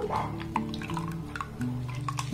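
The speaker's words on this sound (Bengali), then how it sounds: "তো যাই হোক, আলুটাকে আমি 2 থেকে 3 বার খুব ভালোভাবে ধুয়ে নেব।" Water trickles and drips while a potato is washed in a home kitchen for homemade papad, faint, scattered splashes over a low steady hum.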